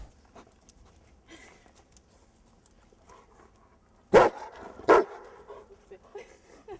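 A German shepherd dog lets out two loud, close barks about a second apart, after a quiet stretch with faint background sounds.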